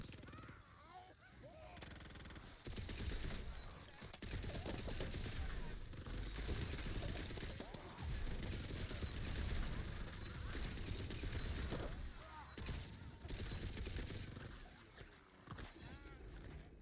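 Sustained automatic gunfire and explosions from the video game Tiny Tina's Wonderlands, dense rapid shots rattling for many seconds with brief pauses, close and loud, with players talking intermittently beneath.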